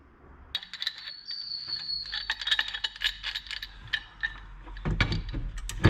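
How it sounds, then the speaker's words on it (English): A big spanner works loose a tight nut on a heavy 600 kg machine, giving repeated metallic clicks and ratcheting clanks close by, ending in a louder burst of clattering metal. "it's the only spanner I could find that I could actually fit on there"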